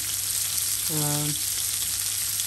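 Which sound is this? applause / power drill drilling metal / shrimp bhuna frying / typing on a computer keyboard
shrimp bhuna frying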